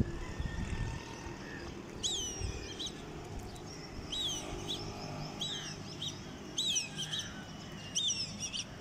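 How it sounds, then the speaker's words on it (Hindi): A kite calls from above the rooftops of a city at early morning, giving short, sharp, repeated cries in several spaced bursts over a faint, steady background hum. "ये चील अपनी और दोस्तों को बुला रही है"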